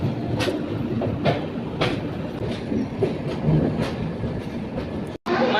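Train rolling into Guntur Junction onto platform 4, a steady close rumble with regular clickety-clack beats from wheels crossing rail joints, ending with a brief cutoff.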